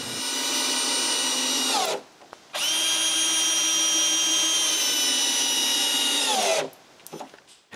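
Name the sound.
power drill screwing a piece of wood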